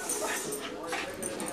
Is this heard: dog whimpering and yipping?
yes